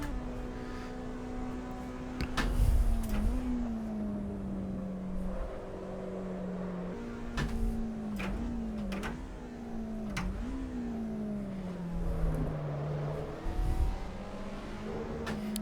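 A race car engine in the Assetto Corsa Evo racing game, revving and blipping through heel-and-toe downshifts, pitch dropping and rising with sharp throttle stabs, loud and steady throughout with no talk.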